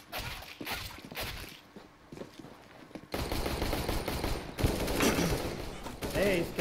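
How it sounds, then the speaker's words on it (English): Gunfire in the video game CS:GO: bursts of automatic rifle fire crackle throughout, growing louder and denser in the second half, with rapid shots layered over a busy game soundscape. "I'm getting shot. Help!"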